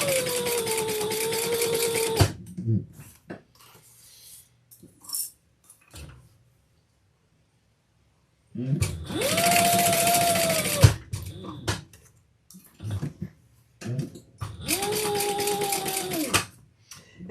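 A sewing machine stitches a leather bag's lining seam in three separate bursts of steady whirring, with quiet handling clicks and taps in the pauses between them.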